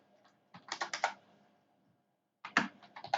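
Keys clatter on a computer keyboard as code is typed for a React Native app, two close bursts of quick, uneven keystrokes separated by a quiet pause, with no talking.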